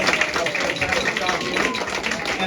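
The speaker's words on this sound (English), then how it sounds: "Let's give him a round of applause." A crowd applauds steadily, a dense wash of clapping filling the room without pause.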